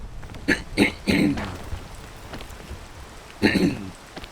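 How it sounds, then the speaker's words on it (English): A person coughs and clears their throat several times in short bursts, two clustered early and another a few seconds later, close and moderately loud against a faint background. "I do apologize for the coughing."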